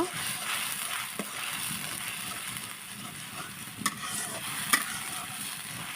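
Spice masala of salt, turmeric, dry chilli and cumin being stirred and fried in oil in a pan, a steady close sizzle with scraping spoon strokes and a few sharper clinks against the metal.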